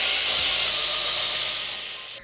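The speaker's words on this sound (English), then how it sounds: "I just got an eraser wheel inside my DeWalt drill, getting all that glue, all that 3M tape off." A rubber eraser wheel spinning in a DeWalt drill, scrubbing emblem glue and 3M tape off the trim of a Ford F-450 Platinum: a loud, close, steady high-pitched whir that stops abruptly at the end.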